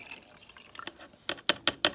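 Epoxy resin pours from a measuring cup and drips into a container, soft liquid trickles building to four sharp, distinct drip sounds close by.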